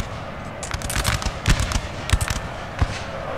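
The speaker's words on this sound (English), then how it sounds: "the grenadiers are using their grenades to kill absolutely nothing" Grenadiers' grenades bursting in a Napoleon: Total War battle, heard as a scatter of sharp crackling pops, several close together and then spaced out, over a steady rumbling battlefield background.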